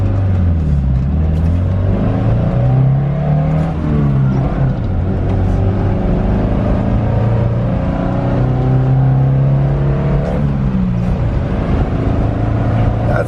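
A Suzuki Samurai engine revs hard and loud, rising in pitch through each gear and dropping at every shift as the stripped-down car accelerates up through third and fourth.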